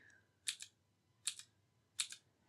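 A blue mechanical keyboard switch on an Ajaxx K620T portable keyboard clicks three times at a steady pace, each press a sharp, crisp double tick, close and alone in a quiet room.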